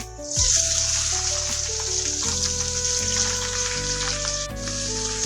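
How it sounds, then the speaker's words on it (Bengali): Chopped onion frying in hot oil with cardamom and cinnamon in a home kitchen pan, a steady close sizzle and crackle that holds loud and even throughout, with no talking. "পেঁয়াজটাকে কিন্তু একদম একটু লাল করে ভেজে নেব।"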